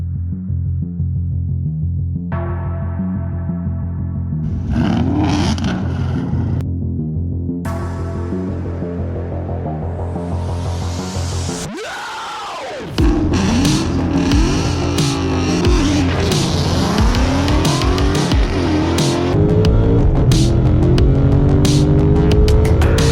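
A 1973 Chevrolet Nova with an LS engine swap starts and then drives. A deep throbbing idle gives way to several throttle blips, a brief lull, then a louder, sustained rumble as it moves off, with no talking.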